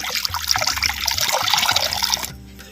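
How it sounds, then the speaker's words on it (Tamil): Half a litre of plain water pours into a clay pan for cooking toor dal in a village kitchen, a close, bubbling splash that runs for about two seconds and then stops abruptly. "தேவையான பச்சை தண்ணி அரை லிட்டர் சேர்த்துக்கிறேன்"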